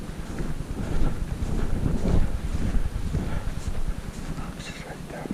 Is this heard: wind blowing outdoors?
yes